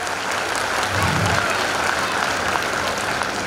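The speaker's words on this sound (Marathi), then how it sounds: "सर्वांनी टाळ्या वाजवाव्यात" Dense applause from an audience at a school or teachers' felicitation function, a steady wash of many hands clapping throughout without pause.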